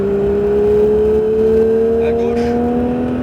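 Porsche 911 GT3 engine pulling steadily on a race circuit, a loud sustained drone rising gently in pitch as the car gets back on the throttle, with brief interior rattles and no talk over it.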